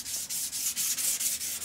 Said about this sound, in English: we're going to be working on the 600 grit and just making sure that we get everything sanded